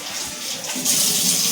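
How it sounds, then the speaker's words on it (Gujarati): Water runs steadily from a tap into a bottle as a mother fills it at home, a continuous splashing rush that grows louder and brighter partway through, with no talking. "એ જો મમ્મી પાણીની બોટલ ભરે છે."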